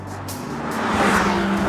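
A McLaren sports car approaches and passes close by, its engine note and tire noise swelling in a brief rising sweep, loud and alone without voices.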